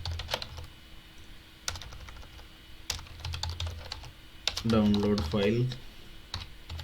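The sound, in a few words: typing code on a computer keyboard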